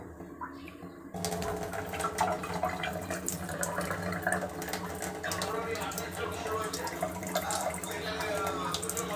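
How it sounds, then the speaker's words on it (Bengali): A hot forged saw hook plunged into water to cool sets off a sudden rush of steady hissing and bubbling that starts abruptly and carries on loudly to the end, with a voice speaking under it. "পানি দিয়ে ঠান্ডা করে নেব।"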